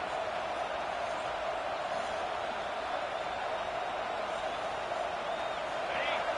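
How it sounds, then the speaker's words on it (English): Football stadium crowd roaring at a Notre Dame game, a dense continuous wall of cheering that holds at an even loud level throughout, spread wide and unbroken. "This crowd, full throat, spreading the eardrums"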